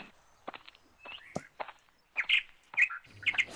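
Birds chirp in short bright bursts along a hill path to a temple, close and clear among crunching footsteps on the trail.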